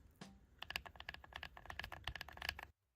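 Quick bursts of clicky keystrokes on a modded mechanical keyboard, fast irregular typing close to the microphone, ending abruptly in silence.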